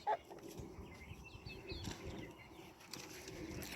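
Chickens and a rooster cluck softly in a farm setting, with a sharp loud call at the start, then scattered clucks and faint bird chirps over low background rustle.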